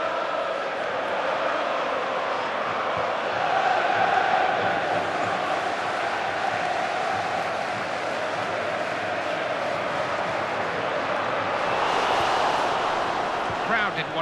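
A stadium crowd in the video game FIFA, during a Manchester City vs Tottenham Hotspur match, murmurs and swells into a louder roar, running continuously beneath a commentator's voice.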